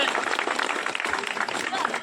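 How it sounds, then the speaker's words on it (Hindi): An audience claps steadily through the whole stretch, dense and loud, welcoming a competitor at a martial arts competition. "आइए ताली बजाकर स्वागत कीजिए"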